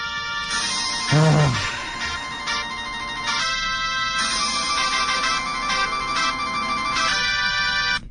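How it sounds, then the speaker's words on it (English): A loud electronic phone ringtone plays a repeating synthesized melody continuously, with no voices. "Can I at least change your ringtone?"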